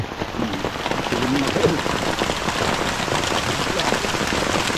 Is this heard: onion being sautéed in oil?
no